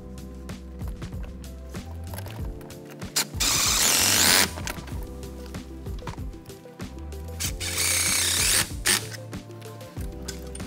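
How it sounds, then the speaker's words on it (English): Hose clamps being tightened on the cold side charge tube of a 2011+ 6.7L Powerstroke diesel: two bursts of a power driver whirring, a few seconds each, among ratcheting clicks and metallic taps, close and without talk. "I can just go through and I'll tighten all my clamps."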